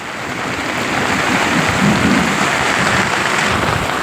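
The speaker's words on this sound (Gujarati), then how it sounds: "જોરદાર વરસાદ આવ્યો ભાઈ વાહ ભાઈ વાહ પહેલી સિઝનનો પહેલો વરસાદ" Heavy first-of-the-season rain pouring down during a stormy downpour, a loud, dense and unbroken roar close by, with low rumbling thunder swelling underneath in the middle.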